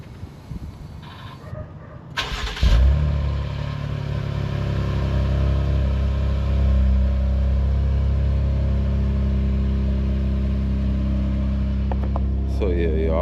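A 2018 Jeep Grand Cherokee High Altitude engine cranks and fires up after brief handling noises, settling into a steady, close, low idle rumble that continues to the end.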